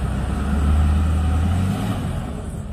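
A 2011 Dodge Ram 5500 turbo diesel work truck with a six-speed manual idles close by, a deep steady low rumble that swells briefly as the engine revs slightly, then settles back.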